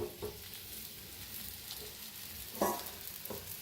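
A paratha fries in ghee on a hot tava with a quiet, steady sizzle and occasional soft crackles and stirring taps, close but faint, with no talking.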